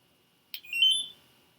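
A Kiss New York Insta Wave automatic hair curler gives a single clear electronic timer beep, starting sharply and holding briefly before fading, close and alone in a quiet room.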